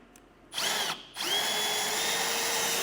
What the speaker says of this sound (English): But basically we're just drilling down through the metal all the way